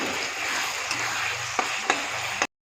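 A paste of chili, ginger, cumin, coriander, tomato, onion and garlic fries in a pan for a chicken curry, giving a steady loud sizzle with a few sharp stirring knocks before it cuts off abruptly.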